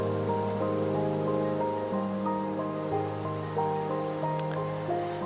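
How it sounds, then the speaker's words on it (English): Rain falls steadily in Minecraft as a continuous soft hiss, with sustained background music tones running underneath. "Ooh, enjoy the rain, cows."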